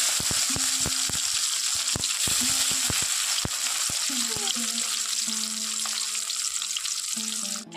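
Spice tempering fries in hot oil as tomatoes are added, a steady loud sizzle with scattered clicks of a utensil and faint tonal hums that change midway, heard up close in a home kitchen for a vegetable curry with drumsticks.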